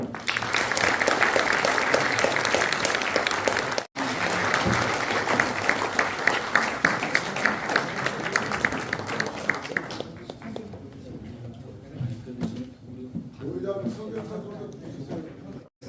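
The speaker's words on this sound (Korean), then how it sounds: "우리 한꺼번에 인사하고 박수를 받으시면 좋겠습니다" Loud applause from an audience at a church presbytery assembly fills the hall with dense, sustained clapping, then thins out and fades into quieter scattered claps and murmuring voices.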